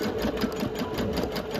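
A Janome MC230E single-needle embroidery machine stitches a thick, dense area of an eagle design, its rapid needle hum steady, close and continuous with no talk.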